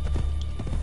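Horse hooves clip-clop in a quick, steady rhythm in Assassin's Creed Brotherhood, a short close burst of hoofbeats.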